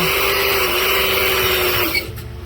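A pedal-operated cable crimping machine clamping a fitting onto a cable makes a loud, steady mechanical whir close by for about two seconds, then cuts off abruptly into quieter background.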